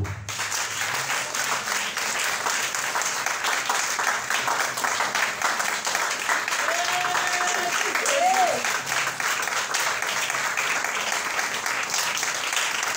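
A French-speaking church congregation applauds and cheers in praise of the Lord, sustained clapping filling the room steadily while a voice carries over it.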